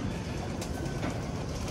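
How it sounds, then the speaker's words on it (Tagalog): Birds coo and call faintly around a loft, nearly lost in a steady, loud wash of background noise. A couple of brief calls stand out, and no voices are heard. "Mga ibon natin"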